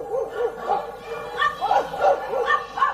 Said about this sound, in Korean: 강아지 소리예요.